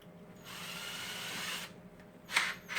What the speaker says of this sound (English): That's the bit I will be using to drill the hole in the wall for this.